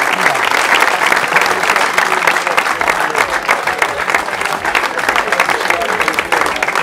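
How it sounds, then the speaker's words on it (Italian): A crowd applauds steadily at the final of a youth football memorial tournament, a thick, continuous wash of clapping that holds evenly from start to finish. "Facciamo un applauso ragazzi."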